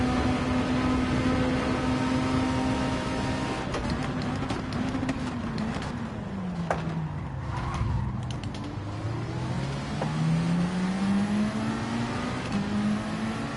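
Race car engines roar in Gran Turismo 7 during a daily race overtake, one engine note sweeping down then climbing again as the car brakes and accelerates past, loud and continuous.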